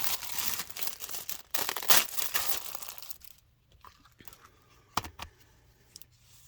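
Tissue paper being unwrapped from a subscription box: loud close crinkling and rustling for about three seconds, then quieter scattered crackles and handling noises.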